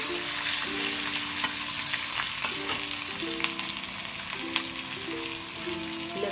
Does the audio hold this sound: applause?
no